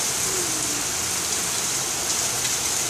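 Steady rain falls outdoors as a continuous broadband hiss with no break, filling the whole stretch at an even, moderate level.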